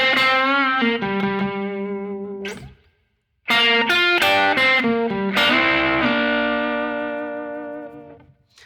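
A distorted electric guitar plays a minor blues lick in G, loud and sustained with bent, ringing notes, a brief silence midway, then a second phrase that rings out and fades.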